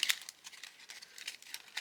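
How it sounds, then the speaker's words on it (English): A deck of playing cards being shuffled quickly, giving a short run of crisp, papery riffling and flicking close up with no voices. "So let's just pull a random card. Give these a quick shuffle."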